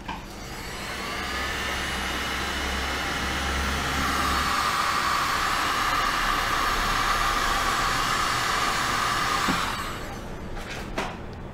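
A heat tool blows hot air onto resin, a loud, steady whooshing roar that runs for about ten seconds before cutting off, leaving a few faint clicks and handling sounds.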